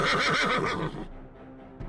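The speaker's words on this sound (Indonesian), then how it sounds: "kuda yang menarik kereta meringkik keras dan berhenti mendadak" A carriage horse whinnies loudly and close, a shaky rising-and-falling neigh that fades out after about a second, followed by a quieter snort.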